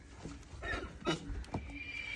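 A mare gives a short, faint neigh with a couple of breathy whinny bursts outdoors, low in level and brief.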